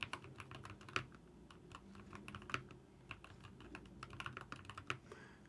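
Someone types quietly on a Keychron K2 HE mechanical keyboard, giving soft, irregular clicks and clacks at close range. A few of the keystrokes land louder than the rest, and there is no speech.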